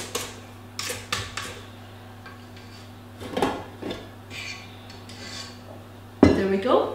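Chocolate mousse being stirred in a bowl, with a few light clinks and scrapes of a utensil against the dish over a steady low hum, and one louder burst of mixing near the end.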